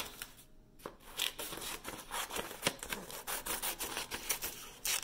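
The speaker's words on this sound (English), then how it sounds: "First thing I'm going to do is cut this sheet in half." Scissors cut a sheet of paper in half for a junior high texture project, a quiet series of close, irregular snips and crisp paper rustles.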